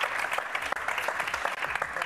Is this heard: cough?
no